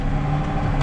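Case International 7220 tractor engine running at a steady low rumble, close and continuous, alone for a brief moment.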